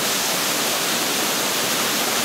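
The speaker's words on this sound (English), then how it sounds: "here we are at Cascade Falls again" Rushing waterfall at the upper level of Cascade Falls in North Carolina, a loud, steady broadband roar of falling water filling the whole moment with no voices.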